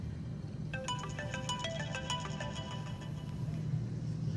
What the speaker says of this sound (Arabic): تليفونك بيرن أهو، ممكن تردي وممكن ما ترديش